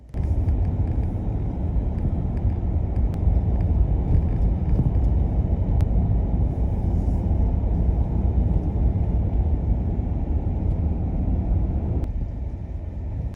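A self-built micro camper van drives along a desert road, its engine and tyre rumble forming a continuous, fairly loud drone from inside the cab that eases slightly near the end.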